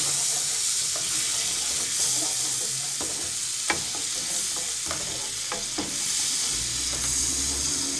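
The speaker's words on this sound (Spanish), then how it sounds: "Agregamos el ajo que se sofría allí." Garlic frying in a pan gives a steady bright sizzle that runs throughout, with a few scraping stirs and small ticks over it, close and even, with no talking.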